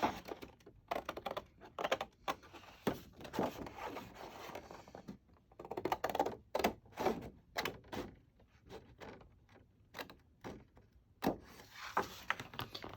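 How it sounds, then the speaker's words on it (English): Scissors cut along a drawn line on a paper file folder, with irregular snips and crisp crackling of the paper close by, quiet, with no talking. "I'm just going to use my scissors and go right up the line that I just made"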